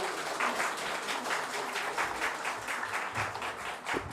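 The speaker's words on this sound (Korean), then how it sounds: "박수로 격려" A church congregation claps together at a Sunday service, a dense, steady wash of applause from many hands filling the room for a few seconds, with a faint voice underneath.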